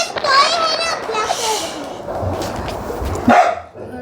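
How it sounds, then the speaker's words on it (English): A dog barks a few times amid a noisy, busy background with children's voices and talk nearby. "That is my dog."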